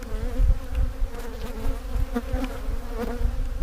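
Honeybees from an open, defensive hive buzz close by in a dense, continuous drone, with individual bees whining past over the steady hum.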